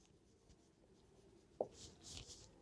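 A pen writing a formula on paper, a few faint scratchy strokes near the end, with a short tap, quiet and close with no talking.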